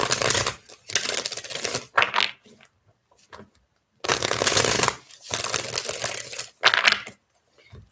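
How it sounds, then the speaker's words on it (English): A tarot deck is shuffled in several brisk riffling bursts, crisp and close, with short silent pauses between them as cards are handled and drawn. "Let's pull 4 cards on that."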